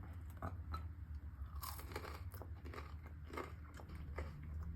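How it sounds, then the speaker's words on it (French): Close, crunchy bites into toast spread with salted butter and honey, several crisp crackles landing irregularly over steady low room noise, with no talking. "Notre petit toast est prêt. On va pouvoir manger ça rapidement."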